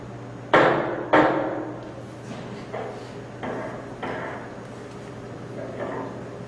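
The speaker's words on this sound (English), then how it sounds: "use a hammer to smash the tissue" Hammer blows smashing a tissue sample on a card against a hard surface: two loud sharp strikes followed by four softer, evenly spaced taps, with a steady low hum underneath.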